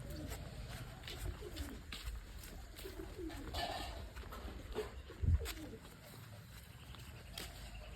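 Pigeons coo softly through a steady outdoor background while being fed at a home, with a brief louder bump partway through and a voice talking.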